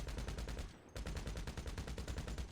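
Sustained, evenly spaced automatic fire from a Combat MG machine gun in a vehicle game, a short burst followed by a brief pause and then a longer steady rattle, quite faint overall.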